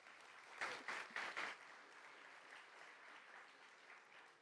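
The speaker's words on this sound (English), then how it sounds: "Can we give them a round of applause, please?" An audience applauds the graduating class at a primary school graduation ceremony, with a few louder bursts of clapping early on that settle into soft, distant applause.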